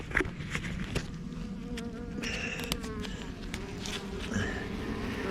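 Honeybees buzz around a small blue hive as it is opened, a dense, close swarm hum with individual bees zipping past near and far, plus faint handling sounds.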